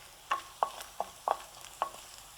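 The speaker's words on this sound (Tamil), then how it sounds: "இஞ்சியை வந்து நம்ம நெய்யில் நல்லா வறுத்து எடுத்தாச்சு" Ginger fries in ghee under a faint background sizzle, punctuated by about six quiet, evenly spaced clinks and scrapes of a spoon stirring in the pan.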